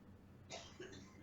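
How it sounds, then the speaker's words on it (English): A single faint cough sounds off in the distance against a low background hum, brief and muffled. "somebody's coughing in the background"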